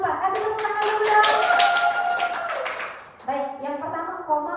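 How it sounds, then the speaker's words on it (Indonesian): A classroom group claps during a micro-teaching practice session: a brief patter of hand claps, mixed with young voices chattering and calling out over it. "Kasih tepuk tangan dulu dong"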